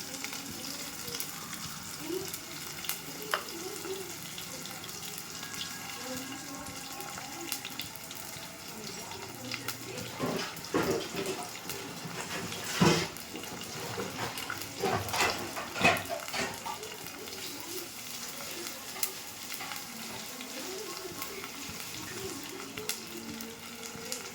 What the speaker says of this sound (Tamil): இப்போ நம்ம சின்ன வெங்காயம் நறுக்கி வச்சுருக்கோம்ல பொடியாக, இந்த சின்ன வெங்காயத்தை போடுவோம்.